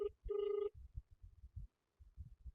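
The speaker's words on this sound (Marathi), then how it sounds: "आता फोन लावलेला आहे मी." A phone call's ringback tone sounds twice, a short burst and then a longer steady tone, moderately loud, with low rumbling handling noise and faint background murmur after it.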